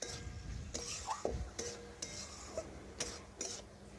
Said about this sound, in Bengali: আর দেখুন ভালোভাবেই নাড়াচাড়া করে আবার আমি কষে নিচ্ছি।